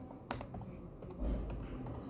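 Rapid, uneven clatter of keys on a computer keyboard, close and fairly quiet, with a few sharper strokes standing out and no talking.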